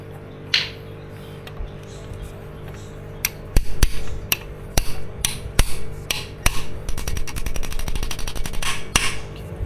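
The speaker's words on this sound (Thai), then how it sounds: "ลูกปืนต้องตีให้สุดนะเพื่อน ถ้าลูกปืนตีไม่สุดมันก็ใส่กิ๊บไม่ได้" Sharp metal hammer blows drive a wheel bearing into a Honda CB500X motorcycle wheel, sparse strikes at first then a rapid run of close, loud taps over a steady low hum.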